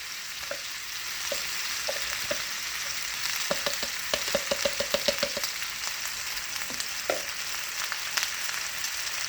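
Rice tossed into a hot pan with cooked Cajun shrimp sizzles and fries steadily, with a run of sharp stirring clatters and scrapes from a utensil against the pan partway through, close and fairly loud, no talking.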